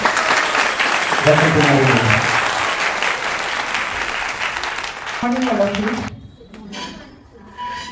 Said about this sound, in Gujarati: તો આપ સૌ તાળીઓથી એમનું અભિવાદન કરીને વેલકમ કરીશું